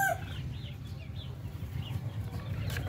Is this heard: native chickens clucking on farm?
yes